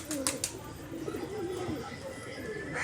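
Domestic pigeons coo close by in a low, rolling warble that runs through the whole short stretch, with a few sharp higher chirps near the start.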